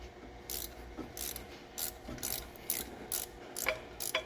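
A ratchet wrench works a bolt on an alternator bracket during a budget turbo build, its rapid clicking coming in steady bursts close by and fairly loud, with no voices.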